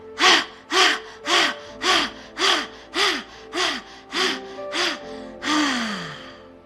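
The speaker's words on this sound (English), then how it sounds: "This is called the skull shining breath" Forceful rhythmic yoga breathing, the skull shining breath: about nine sharp, evenly spaced nasal exhalations in quick succession, close and loud, ending in one longer, slower exhale.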